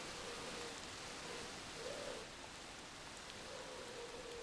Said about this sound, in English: Can the rain please stop?